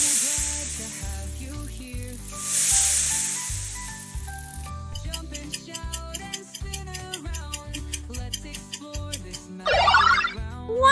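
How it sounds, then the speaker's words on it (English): A snake hissing, a broadband hiss rising briefly early on over a ticking children's music backing, with a later hissy burst near the end; no talk. "Yes, it's a snake sound."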